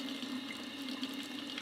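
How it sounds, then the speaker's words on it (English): Warm water running through a beer tap line during cleaning, a thin continuous trickling and hissing flow with a faint steady hum, quiet and even from start to finish with no speech. "And once it's going, you'll have water coming out the other end."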